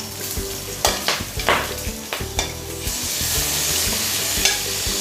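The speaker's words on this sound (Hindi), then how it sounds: "4 हरी मिर्च और 2 बड़े टुकड़े अदरक। इसको हम थोड़ा सा सौते कर लेते हैं।" Four green chillies and two large chunks of ginger sizzle in a hot pan, a steady frying hiss broken by several sharp scrapes and knocks of stirring, with no talk.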